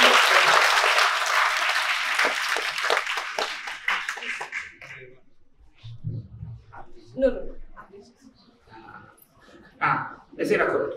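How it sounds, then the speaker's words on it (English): Students at Insight International School in Hyderabad, gathered for an Earth Overshoot Day poster prize, clap loudly together for a few seconds before the applause fades out and scattered talking takes over. "let's give a big clap to him"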